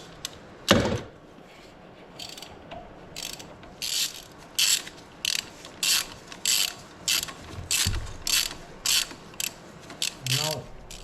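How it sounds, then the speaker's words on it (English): A ratchet wrench tightens fuel pump bolts on a Peugeot 307cc 2.0 HDI, giving loud, close bursts of rapid clicking in a steady rhythm, separated by brief pauses and a couple of metallic knocks. "So I will torque the other two, and I will come back to this one, and I will leave it the last."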